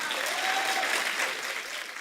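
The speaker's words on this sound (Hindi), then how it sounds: "ठोको ताली, ठोको ताली।" A studio audience at a comedy talk show applauds loudly, a dense, even wash of clapping that holds strong for the whole stretch with a faint cheer mixed in.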